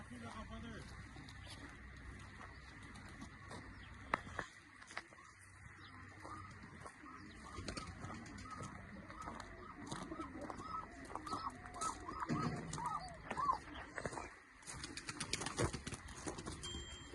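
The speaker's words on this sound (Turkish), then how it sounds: "Daha başka kuşlar da var burada." Pigeons and other fowl in a bird garden, soft cooing and clucks with a rooster-like call scattered through a faint, busy outdoor backdrop, people talking intermittently nearby.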